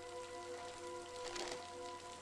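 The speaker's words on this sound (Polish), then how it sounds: "Dalej pada." Soft, steady rain patters on a surface, a constant hiss with faint drips, quiet and unbroken throughout.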